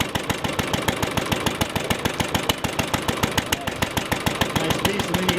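An International 1.5 to 2.5 horsepower antique engine runs a Marvel number 12 cutoff saw, chugging in a steady, rapid, evenly spaced rhythm of loud, close exhaust beats.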